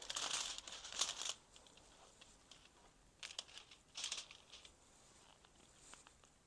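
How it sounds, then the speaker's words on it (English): Thin hair foil crinkles softly on a comb during foil highlighting, faint close rustles in a few short bursts with quiet stretches between. "I'm going to place my foil on the comb"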